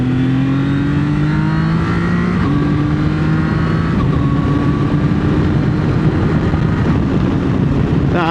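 Zontes ZT 703F adventure motorcycle accelerating hard on a bypass, engine note climbing steadily with quick, clean quick-shifter upshifts at short intervals, loud and close with constant wind and road roar.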